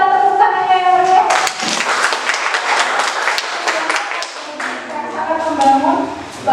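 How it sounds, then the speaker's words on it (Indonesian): Audience applause at a village gathering, dense clapping spread throughout with voices talking over it and fading toward the end. "Boleh kita tepuk tangannya yang meriah?"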